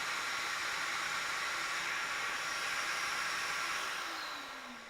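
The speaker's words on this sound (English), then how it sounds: "As you can hear, the sander goes, and you can see there's no dust at all" Woodworking sander running steadily with dust extraction while attaching a frame-and-panel lid, a smooth constant whir and airy hiss at low-to-moderate level that tapers off slightly at the end, with no voices.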